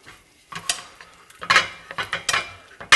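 Penne pasta being stirred together with homemade everyday pasta sauce, a series of wet scraping and clinking strokes from a utensil against the pot, several louder bursts in quick irregular rhythm, close and without talk.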